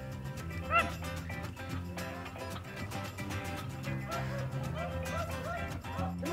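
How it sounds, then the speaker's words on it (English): Beagles bay and yelp in a rabbit hunt in the Arkansas River Valley, steady excited barking with yips carrying over ongoing background noise and some talk. "Those beagles barking like that makes my heart start beating fast."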